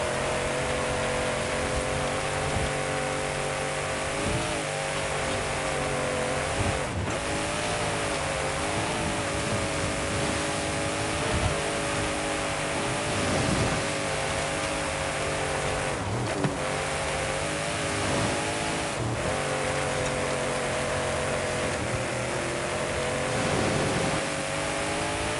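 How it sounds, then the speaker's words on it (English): A car engine in the racing game Forza Horizon 5 drones loudly and continuously, revving up and down in waves with occasional gear-shift dips, dense and close throughout. "Sometimes the car is loud compared to you."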